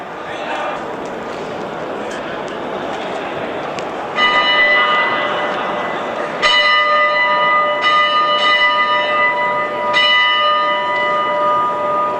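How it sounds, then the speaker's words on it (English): A bell on the front of a locomotive at a railway museum in China rings out repeatedly with bright, sustained metallic tones, struck at intervals over a steady background hum of outdoor noise. "Somebody's obviously ringing a bell on the front of a locomotive."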